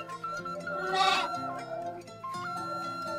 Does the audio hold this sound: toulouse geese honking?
no